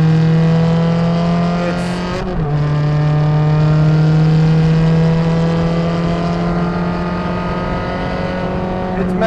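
The V8 of a Ferrari 360 Challenge Stradale holds a loud, steady, close engine note, with a brief sharp blip of the throttle early on and no talk.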